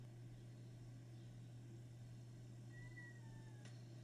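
A faint, distant kitten mew rises and falls once over a steady low hum and background hiss, followed by a brief click.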